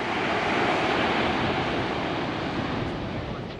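Ocean waves rolling in and breaking on a shoreline, heard as a continuous loud broadband roar of surf with steady wash and no distinct individual crashes, some wind noise mixed in.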